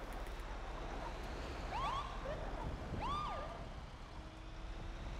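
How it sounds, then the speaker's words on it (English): Distant sirens wailing over a low background hum, two rising and falling sweeps fairly faint and far off amid steady ambient noise, with no talk. "You hear the sirens?"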